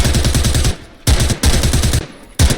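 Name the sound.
gunfire in a video game shooter match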